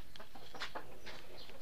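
Brood hens cluck in short, scattered bursts at close range, a few quick calls overlapping over a soft background hum.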